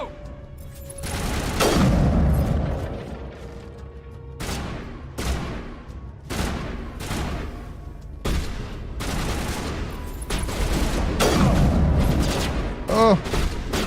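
Gunfire in the video game Mass Effect, repeated bursts of shots and booming impacts spread across the stretch, loud and close, with a player talking between them.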